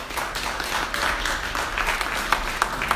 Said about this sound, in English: So please, a round of applause for my president